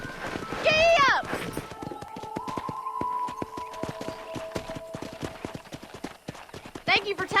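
A horse gallops with rapid clip-clop hoofbeats and a whinny in the cattle-herding western video game Red Dead Redemption, heard up close alongside a shouted voice.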